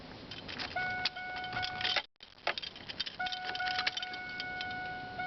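Car keys jangle and click near the ignition of a GM car with a bad fuel pressure regulator while a repeating dashboard chime tones steadily; a brief silent gap, then the jangling and chiming resume.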